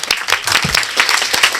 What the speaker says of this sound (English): So perhaps we applaud them.